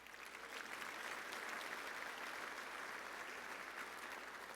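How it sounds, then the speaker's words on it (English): Sustained applause from an awards-show audience for silver sponsors: continuous crowd clapping that swells in after a moment and holds steady to the end, with no talking. "Our silver sponsors, give them a round of applause."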